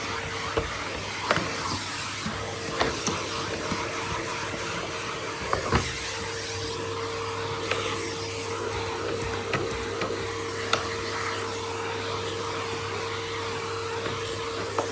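A vacuum cleaner works over a house entrance during a deep clean, its steady motor drone running throughout with occasional knocks and bumps as the head moves around, fairly quiet and with no talking.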